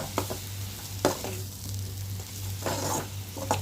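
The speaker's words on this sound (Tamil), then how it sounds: "அந்த எண்ணெயிலேயே மசாலா போகிற வரைக்கும் ஒரு 2 நிமிஷத்துக்கு வந்து பெரட்டி விட்டு" Masala being stirred in hot oil for vegetable sambar, with a steady low sizzle and a few sharp scrapes of the spoon against the pan at irregular intervals, close up and without talk.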